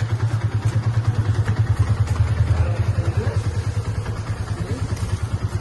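A vehicle engine runs steadily in the foreground as a learner driver lets out the clutch, a low, even rumble with a faint rhythmic pulsing and some clatter throughout.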